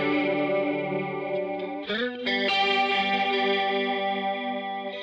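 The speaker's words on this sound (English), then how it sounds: "Some vibrato." Sustained synth preset in Logic with vibrato applied, a steady harmonic tone that wavers in pitch and briefly shifts to a new note partway through, heard alone with no talking.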